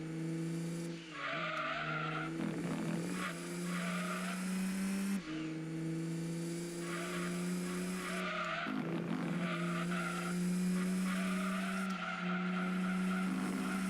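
Racing cars in the Gran Turismo 2 video game, a Lister among them, roar steadily with engines revving up and down through gear changes and tyres squealing, loud and continuous throughout.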